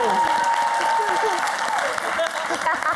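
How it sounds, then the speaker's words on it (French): Studio audience applause on a French television show, brisk clapping throughout with a tonal whistle or hoot gliding above it and voices mixed in. "Allez, on peut applaudir bien fort tout le monde"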